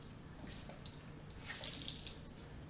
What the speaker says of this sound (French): je vais les mouiller à l'eau chaude